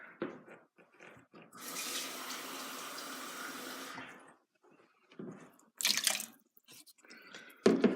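Water pours from a tap into a pot of tomato cabbage soup in a home kitchen, a steady splashing run of a couple of seconds followed by shorter bursts and clatters.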